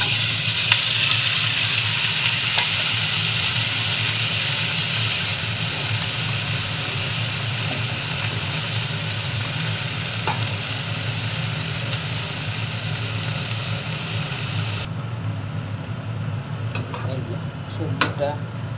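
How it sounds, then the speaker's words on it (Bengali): Mixed vegetables fry in hot oil in a pan with a constant loud sizzle, broken by occasional scrapes and clinks of a spatula as they are stirred, and faint talk now and then. "সবজিটা একটু ভাজা ভাজা হয়ে গেছে"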